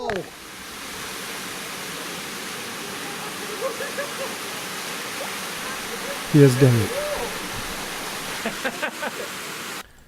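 Steady broadband rush of a waterfall at Topes de Collantes, Cuba, a constant wash of falling water, with people talking and a few brief splashes and knocks over it.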